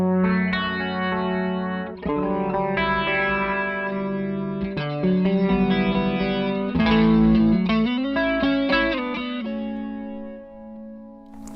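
Electric guitar through a Walrus Audio Julia chorus pedal with the rate turned all the way down, giving slow, gently pulsing chorus on sustained chords and single notes, played steadily and up close with no talking.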